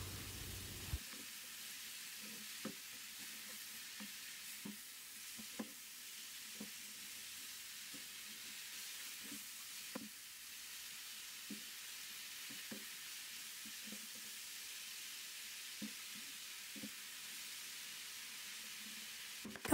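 Kaldirik greens frying in a pan give a faint, steady sizzle with a steady series of soft scraping taps as they are stirred.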